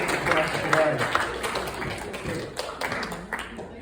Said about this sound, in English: just give her a clap to say thank you, Ruth, for making music for us today